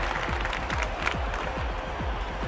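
A video-game tennis crowd applauds a point with steady, dense clapping and cheering, sustained at an even level throughout with little rise or fall.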